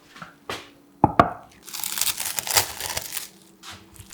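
Crinkling and tearing of plastic wrap being stretched and pulled over a bowl, with a couple of sharp snaps and rustling handling noises, close up.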